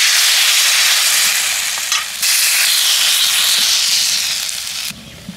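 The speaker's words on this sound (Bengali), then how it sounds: "এবার আমি গোলাটা অল্প পরিমাণে দিয়ে দিচ্ছি।" Patishapta batter sizzling loudly in a hot frying pan, a steady close hiss that dips briefly and then fades toward the end, with no talking.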